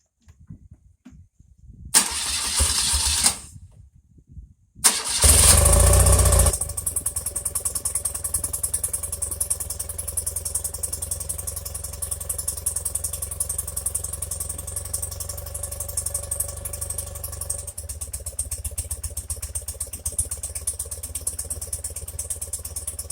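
A BMW R80RT airhead motorcycle with Bing carburetors cranks over in two short starter bursts, catches, and then settles into a steady, slightly lumpy idle that runs on alone for most of the clip.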